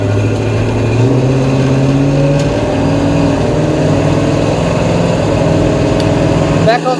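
1970 Chevrolet C10 pickup truck accelerating on a test drive, a steady loud engine drone rising slowly in pitch from inside the cab, with some talk over it.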